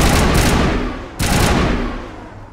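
Weapon gunfire in the video game Mass Effect: two loud, close bursts of sustained rapid fire, the second starting after a brief drop. Each burst is dense and booming, with no talking.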